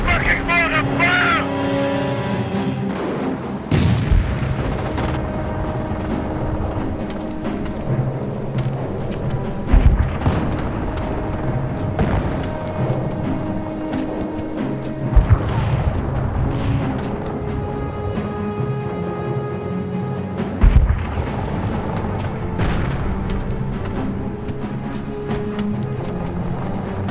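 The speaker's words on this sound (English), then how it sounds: "Taking fucking mortar fire!" Mortar fire in the game Company of Heroes 2: several sharp booms land a few seconds apart over a dense, steady bed of engine rumble and music, with a voice speaking now and then.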